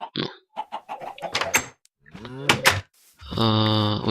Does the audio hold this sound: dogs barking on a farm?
no